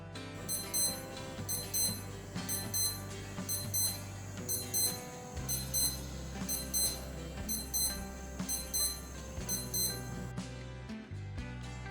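Casio A178W digital watch alarm beeping in repeated rapid high-pitched bursts at a steady rhythm, close and fairly quiet, with no voices.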